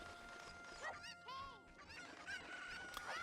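Chickens clucking and squawking in the Ocarina of Time video game, a series of sharp warbling cries, several rising and falling calls over a steady background hum, fairly close.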